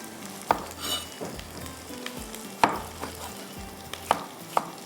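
Tomatoes frying and sizzling in a hot pan for beef malai qeema, a constant crackling sizzle with several sharp clinks and stirring knocks of a spoon against the pan, close by and without speech.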